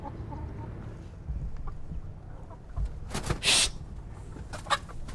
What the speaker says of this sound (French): Entre les deux coqs, le maître des lieux en blanc et le nouveau en noir, l'ambiance est électrique.